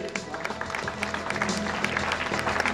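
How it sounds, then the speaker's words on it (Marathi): A crowd at a bank's centenary celebration claps for the dholki players, giving brisk, uneven applause with sharp individual claps standing out, at moderate loudness. "ढोलकी वाजवणारे जे कलाकार आहेत त्या कलाकारांना एकदा जोरदार टाळ्या होऊ देत"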